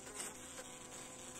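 A steady, dense buzzing hum of many honeybees in a hive during a late-winter inspection, constant and close, with no voices over it.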